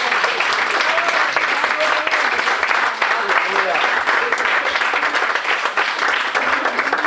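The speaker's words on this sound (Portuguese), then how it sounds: "aplauda ao Senhor Jesus com toda a tua alma" A church audience in Hannover applauds in a loud, sustained, dense roll of many hands. Voices call out over the clapping throughout.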